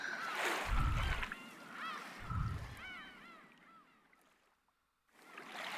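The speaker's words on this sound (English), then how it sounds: "The seagulls are too loud." Seagulls honk and call loudly in a noisy outdoor setting, a few harsh cries overlapping with bursts of wind-like rumble, then a brief near-silence before the calls resume.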